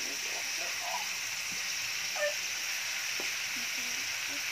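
Pieces of meat frying with garlic and onion give a continuous broad sizzle, steady and close, while someone talks faintly over it for Filipino pata paksiw.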